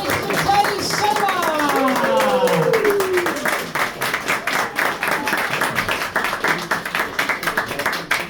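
A comedy club audience claps for the next comedian at an evening stand-up show in Christchurch, with dense sustained applause close and loud, mixed with cheering voices and a host calling out over it.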